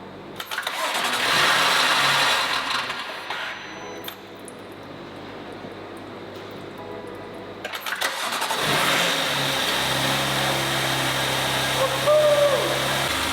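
A wrecked 2019 BMW M2 Competition cranks and starts, its engine catching and settling into a steady, loud idle close by.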